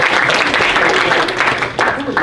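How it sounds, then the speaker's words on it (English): Pageant audience applauding the contestants, a steady wash of clapping with voices and cheers mixed in throughout. "Let's give another round of applause to all our contestants and their big stars."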